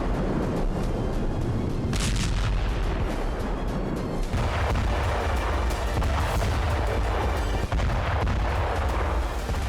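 Explosions from Israeli bombing in Gaza, loud heavy booms and blasts with rumbling low end, several sharp bursts around the start and middle amid continuous dense roar, no voices.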